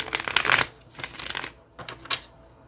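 Gilded Tarot cards are shuffled by hand in quick, riffling bursts, a loud flurry first and then a few shorter, softer shuffles close up.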